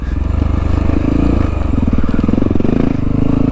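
A Honda XR650L dual-sport motorcycle rides off-road at Cow Mountain, its single-cylinder engine thumping steadily and loud throughout, with clattering and scraping from rough trail terrain mixed in.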